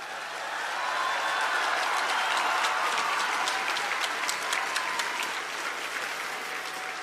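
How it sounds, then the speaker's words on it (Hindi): Loud applause from an audience at a university ceremony, many hands clapping steadily for about seven seconds, with sharper individual claps standing out near the front. "जोर से ताली।"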